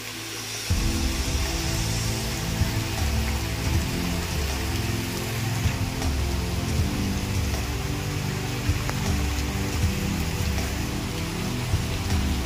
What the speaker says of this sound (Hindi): ये पानी गाइस पूरा ऊपर से बह के आ रहा है गाइस।